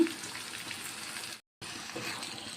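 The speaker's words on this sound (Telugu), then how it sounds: "ఇలాగా ప్రాన్స్ మొత్తం వేసుకొని ఇలా మిక్స్ చేసుకోండి" Prawns cleaned with turmeric and lemon juice hiss and sizzle as they are mixed in a hot pan, a steady close frying sound with a brief dead-silent gap midway.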